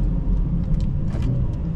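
A stage 2 tuned BMW 440i engine heard from inside the car, a deep steady rumble with brief blips and crackles as it downshifts, loud and continuous with no talk.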